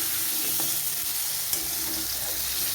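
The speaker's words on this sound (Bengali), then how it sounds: "আর এবারে দিয়ে দেবো কেটে রাখা আলুগুলোকে একটু ভালো করে ভেজে নেব।" Cut potatoes sizzle steadily in hot oil with turmeric in a pan for a banana flower dish, a continuous close frying hiss with faint stirring clicks and no voices.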